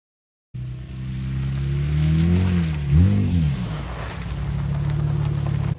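An ATV engine starts and runs after its carburetor jets were cleaned and a fuel filter added, a close, steady idle with a brief rev in the middle.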